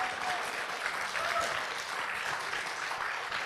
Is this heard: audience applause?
yes